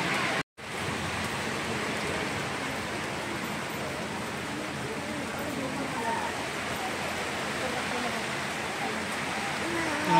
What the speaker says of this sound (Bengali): কত জোরে জোরে বৃষ্টি হচ্ছে